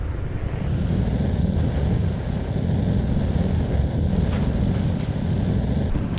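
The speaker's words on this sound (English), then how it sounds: "Engine start." A rocket engine fires up in the space-flight game Kerbal Space Program, a steady, loud, low roar that holds evenly from start to finish with no voices.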